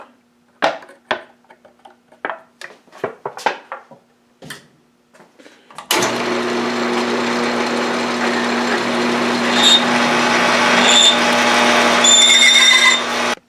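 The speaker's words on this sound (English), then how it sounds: "I'm going to go down to the lathe and shoot a hole through the center of this bushing I made here" Metal lathe boring a hole through the center of a homemade control arm bushing on a loosely rigged setup, a steady close, loud machining whine and grind starting abruptly after several seconds of scattered clicks and handling knocks.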